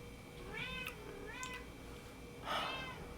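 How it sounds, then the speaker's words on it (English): A cat meows three times outside a closed room, wanting to be let in, with each cry rising and falling and the last one the loudest, heard alone against a quiet indoor hum. "A cat wants into my room and they will keep bugging me if I don't let them in"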